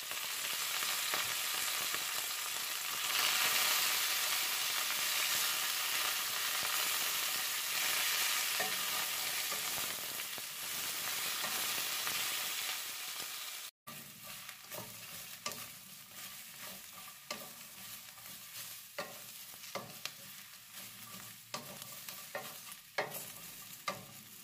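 Cabbage and garlic stir-fried in olive oil in a hot pan give a continuous loud sizzle, then after a brief cut the frying continues softer with scattered scraping stirs and pops.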